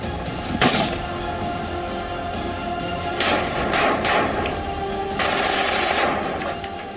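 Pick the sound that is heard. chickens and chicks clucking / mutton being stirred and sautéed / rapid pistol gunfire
rapid pistol gunfire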